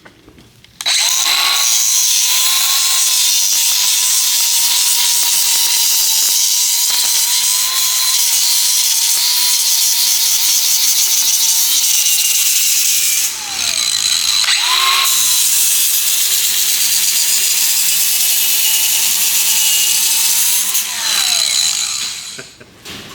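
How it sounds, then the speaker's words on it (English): A power grinder cuts steadily through cement slabs for a landscaping job, a loud continuous high-pitched whine with a brief dip near the middle, then resuming until it winds down at the end, no talking. "Right in here with the grinder and cut this"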